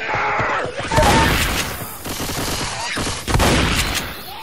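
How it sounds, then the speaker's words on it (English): Rapid gunfire from Left 4 Dead 2 during co-op play in the Dark Carnival campaign, dense overlapping bursts of shots that crackle loudly and steadily throughout, swelling again near the end. "let's stop shooting each other"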